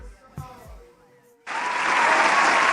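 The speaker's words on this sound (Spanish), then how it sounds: "fuerte el aplauso" A brief voice and a couple of thumps, then a crowd bursts into steady, sustained applause that continues loudly to the end.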